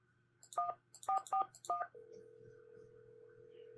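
A telephone in the Nancy Drew game Scarlet Hand beeps out four quick DTMF dialing tones in an uneven rhythm, then a steady ringing or line tone holds, clear and close over a low hum.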